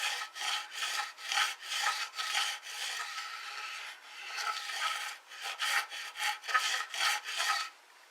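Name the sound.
filing guitar frets level, metal on metal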